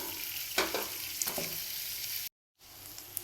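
Garlic cloves and small shallots fry in hot oil for a horse gram chutney, giving a close, steady sizzle with a few stirring scrapes near the start and a brief drop to silence before the frying resumes.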